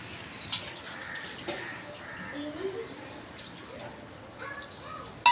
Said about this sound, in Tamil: ஒரு கப்பு ஃபுல்லாக நம்ம வந்து தண்ணி சேர்த்துக்கலாம்